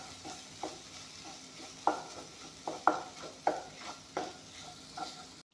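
Ground cumin fries in a pan while a spoon stirs it, so a low sizzle runs under about half a dozen sharp metallic scrapes and taps at uneven intervals, close by.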